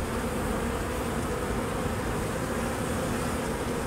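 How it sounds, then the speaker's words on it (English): Honey bees pour out of a shipping package, a dense, continuous buzzing hum, loud and close throughout with no voices. "I pull out the can, and here come the bees."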